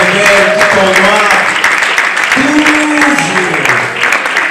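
Audience applause for an award winner at a Nzonzing Awards ceremony, dense steady clapping throughout, with a loud amplified voice speaking and sustained music tones layered over it.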